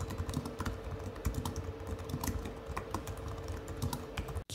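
Steady, fairly quiet clatter of fingers typing on an Apple keyboard made for the iPad, with rapid keystrokes continuing throughout and no talking.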